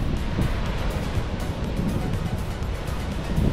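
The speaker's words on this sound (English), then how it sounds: "Massive waves, blue seas." Ocean waves at a Maui lookout, a loud continuous rushing roar of surf mixed with buffeting wind on the microphone, steady throughout with no distinct breaks.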